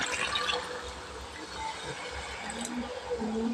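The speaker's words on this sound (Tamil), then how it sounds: "சிக்கன் வேகிறதுக்காக தண்ணி சேர்த்துருவோம்." Water is poured into a pot of cooking chicken, a faint, continuous splashing and gurgling at low volume.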